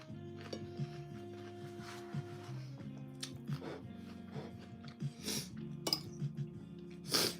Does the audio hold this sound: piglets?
no